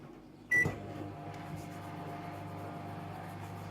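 A microwave oven hums steadily after a click and beep near the start, running on to heat a batch of slime.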